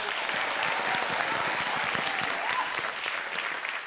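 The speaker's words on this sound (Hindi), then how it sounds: "अभी लोग सब ताली वाली बजा देते हैं" Steady, dense applause from a studio audience on a television quiz show set, many hands clapping at once in a continuous wash of sound that holds its level throughout with no talking over it.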